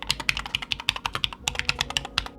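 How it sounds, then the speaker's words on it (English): Quick, crisp keystrokes on a Keychron K5 Max full-size keyboard with swapped aftermarket keycaps, a dense, even run of close clicks and clacks heard alone with no talking. "Typing on this is very satisfying, nice to type on"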